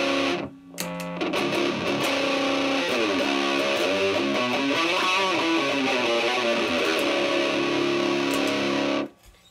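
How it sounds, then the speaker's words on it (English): Electric guitar played through a yellow MXR distortion pedal, a loud sustained gritty tone with bending, shifting notes ringing out for several seconds before stopping abruptly. "A goes from the ABY box to my yellow MXR distortion pedal, which sounds like this when you add it in."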